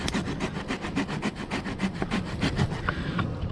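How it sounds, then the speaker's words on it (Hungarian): Small folding saw on a Nextool Flagship Captain multitool cutting through a piece of firewood, a steady run of rasping back-and-forth strokes, close and fairly loud, with no talking. "Én szerintem jól dolgozik ez a kis fűrész."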